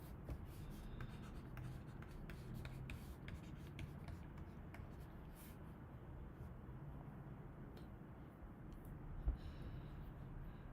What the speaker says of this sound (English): let's just write that down